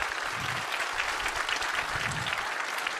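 Steady, dense applause from a conference audience fills the room for the two speakers, a continuous wash of clapping with no voices on top.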